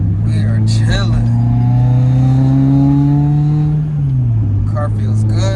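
A Subaru WRX with an FA20 engine and a cylinder 4 misfire hums along while driving, a steady close engine drone that dips in pitch around the four-second mark. Voices can be heard over it.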